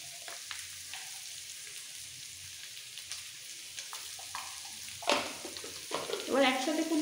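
Potatoes fry in a pan with salt and turmeric while being stirred, faint sizzling under scraping stirs that swell into louder bursts toward the end.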